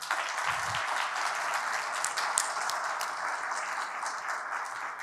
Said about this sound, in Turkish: Evet, alkışlarınızla.